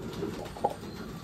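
Pigeons coo faintly at feeding time, a soft low murmur with one brief clearer call midway, heard alone at a short distance.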